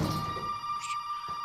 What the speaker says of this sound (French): Non, le téléphone, genre j'ai pas le temps en fait.